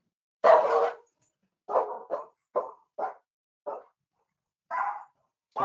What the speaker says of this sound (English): the dogs will probably bark